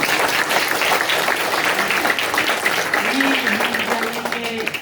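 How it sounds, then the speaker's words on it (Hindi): Sustained applause from an audience at a school bhajan singing competition, a dense, even wash of clapping greeting a guest, with voices and brief tonal sounds mixed faintly beneath. "तालियों से स्वागत करते हैं।"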